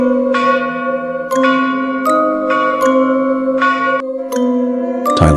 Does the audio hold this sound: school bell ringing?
yes